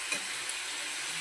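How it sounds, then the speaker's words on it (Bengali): Spices with salt and tomato sautéing in a pan, a short steady sizzle at moderate level with a couple of tiny stirring ticks near the start. "আবারও কষিয়ে নেব নুন দিয়ে ভালো করে"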